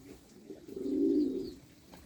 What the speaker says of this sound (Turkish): kuşlar da burada